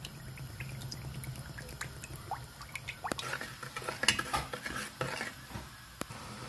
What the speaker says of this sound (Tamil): எண்ணெயை சேர்த்துக்கும்.